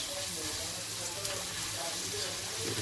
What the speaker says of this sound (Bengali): এবারে হলুদটা দিচ্ছি। ভালো করে মিক্সড করে দিচ্ছি।